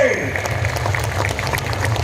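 A large rally crowd in Ambikapur keeps up dense, steady applause, broad clapping noise that holds without break, with an amplified voice briefly over it at the start.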